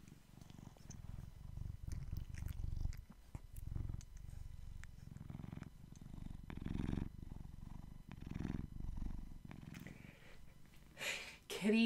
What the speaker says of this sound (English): Kitty purrs ASMR.